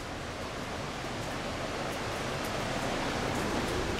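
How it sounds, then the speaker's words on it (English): Water rushes through a cave like a raging river, a dense, steady roar that fills the space continuously with no break. "You hear a lot of water flowing back here. Sounds like a mad,"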